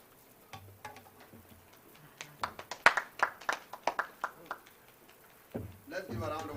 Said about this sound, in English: Let's give a round of applause once more.